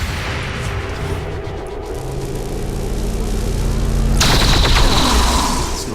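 Sustained loud automatic gunfire in XCOM 2: War of the Chosen, a dense rattling barrage that swells and sharpens into a bright burst of shots near the end.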